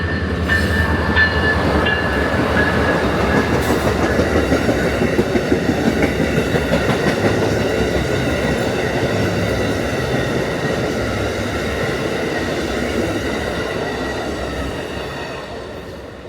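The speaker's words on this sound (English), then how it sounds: "the southbound Palmetto from New York to Savannah, Georgia, led by Siemens ALC 42 Charger number 334" A southbound Amtrak Palmetto passenger train from New York to Savannah, led by a Siemens ALC-42 Charger locomotive, rumbles past in Ashland, Virginia, with loud steady wheel clatter and rail noise that slowly fades near the end.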